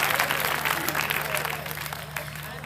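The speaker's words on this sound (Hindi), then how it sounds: "एक बार सब लोग मिलकर के ताली बजा" Audience applause at a kavi sammelan, a dense burst of clapping from a crowd that gradually thins out, with a voice speaking over it.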